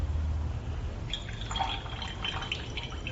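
Water poured or squirted into a pH indicator solution, quiet trickling and dripping splashes that start about a second in and continue faintly over low background hum.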